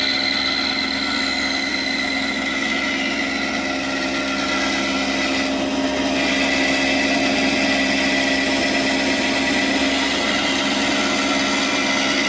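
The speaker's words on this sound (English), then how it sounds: "We'll take this inside part on the bandsaw." Bandsaw blade cutting through an inner wooden part of a leather couch armrest, a steady loud whining machine drone with high hiss running continuously and alone, no talking.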